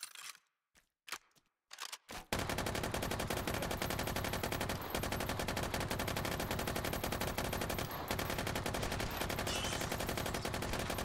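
Sustained automatic gunfire from an Uzi in the VR shooter Hot Dogs, Horseshoes & Hand Grenades begins after a few scattered shots, then rattles on as a loud, dense, rapid burst with brief gaps.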